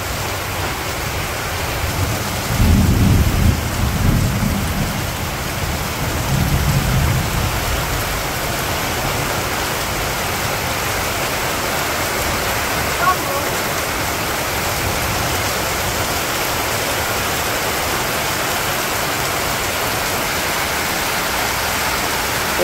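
Heavy monsoon rain pours steadily in a Bangladeshi village, a dense even roar, with a deeper rumbling swell early on that may be distant thunder.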